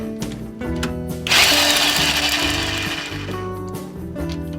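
An impact wrench bursts loudly for about two seconds while removing bolts from a Jeep Dana 35 axle in a garage, a sharp rattling hammer against a quieter background hum before and after.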